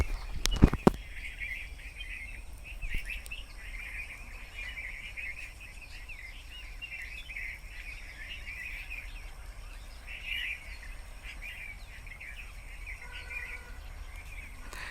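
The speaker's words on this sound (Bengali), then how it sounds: "কতগুলা পাখির কিচির মিচির" Small birds chirp and twitter steadily around a village, a continuous high twittering chorus over a quiet rural background, with a couple of sharp knocks near the start.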